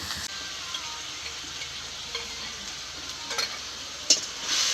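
Garlic and ginger paste sizzles softly in a pan as a faint steady hiss, with a few light clicks and scrapes of stirring and a brief louder burst near the end.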